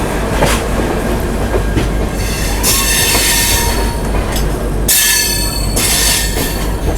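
A goods train rolls past a crossing close by near Visakhapatnam, loud and continuous, with rhythmic wheel clatter and bursts of high metallic squealing from the wheels.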